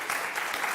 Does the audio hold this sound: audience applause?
yes